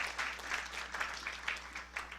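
A church congregation applauds after a sermon, a dense, even burst of many hands clapping from across the room, steady for about two seconds with no talk over it.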